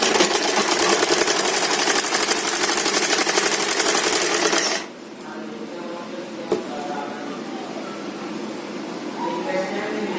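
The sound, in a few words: sewing machine stitching kurti neckline to lining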